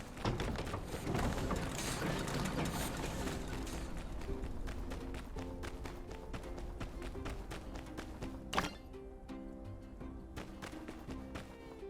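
A screw-making machine in the game My Time at Sandrock runs with a busy, continuous mechanical clatter of rapid ticks and ratcheting, a steady faint hum beneath, and no talking.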